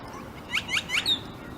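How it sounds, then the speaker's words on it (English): A bird gives three or four quick, high chirps in a short burst, clear over a quiet outdoor background in a San Diego regional park. "Got birds and ducks and all sorts of wildlife."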